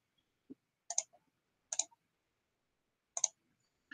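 Sharp clicks of a computer mouse while drawing birdhouse blueprints, three distinct double clicks spaced about a second apart, close and quiet in an otherwise silent room.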